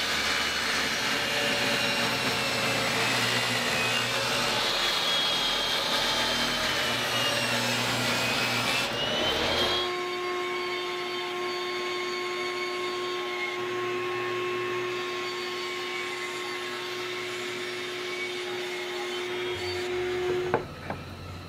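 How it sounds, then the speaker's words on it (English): A table saw runs loudly up close while cutting wood for a guitar neck carving jig, a harsh sustained whine through the first half. It then spins down to a steady, quieter motor tone that stops at the end. "I'm gonna make this cut with the table saw"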